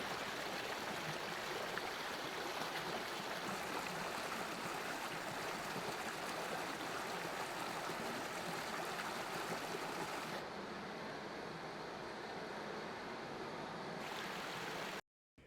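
Steady flowing water ambience, dense and continuous, built as sound design for found-footage style scenes of a fictional national park, slightly thinning near the end before cutting off abruptly.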